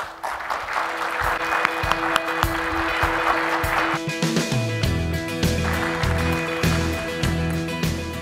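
Keynote conference audience claps in welcome, a dense crowd of applause at full volume, with music playing underneath that grows more prominent toward the end.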